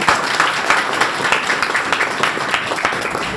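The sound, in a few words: audience applause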